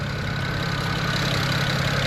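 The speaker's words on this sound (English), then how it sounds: "It's definitely angry, but it's running. It's idling." A BMW 335i, rescued after being abandoned, idles steadily with a dense, even engine rumble that holds constant throughout with no voices.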